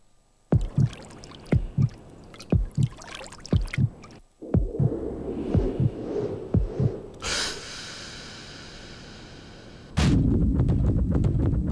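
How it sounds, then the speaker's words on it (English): Heartbeat in a Ford TDCi diesel car advert: loud, close, paired thumps in a steady rhythm, then a low humming passage and a sharp burst near the end. "The loudest noise you'll hear will be your heartbeat."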